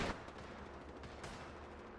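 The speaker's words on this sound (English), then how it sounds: "Storaiku having a couple of shots over at SMG." SMG fire in a competitive Apex Legends pro league match: a brief burst of distant gunshots, faint in the game mix, with a few scattered sharp reports over a steady background.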